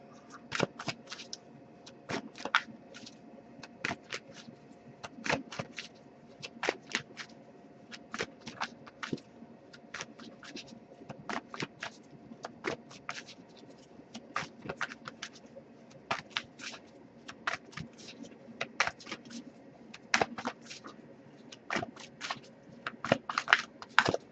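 Oracle cards are handled and shuffled in quick, irregular bursts of crisp flicking and snapping, close and fairly quiet, with no voices.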